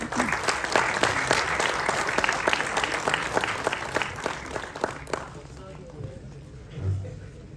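Audience at an AI and sports conference inauguration giving a round of applause, steady crowd clapping for about five seconds that then fades out, leaving quieter room sound with a voice beginning to speak.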